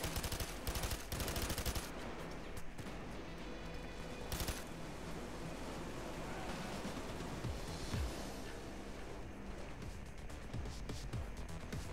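Light machine gun fire in the heist shooter Payday 2, a fast stuttering spray of shots that comes in bursts at the start and middle and then runs into a continuous rattling roar, fairly faint overall.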